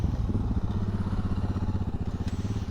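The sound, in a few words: Aprilia Tuareg 660 motorcycle engine stalling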